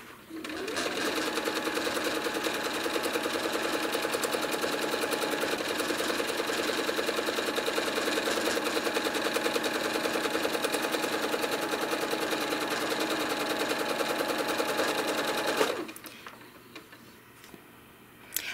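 A sewing machine stitches a quilt, running close and loud in a continuous fast whirring rattle for about fifteen seconds before stopping abruptly, followed by quieter handling sounds.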